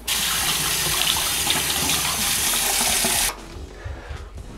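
Water runs hard from a bathroom sink tap while a man rinses his face, a loud steady gush that cuts off abruptly, leaving faint splashes and drips.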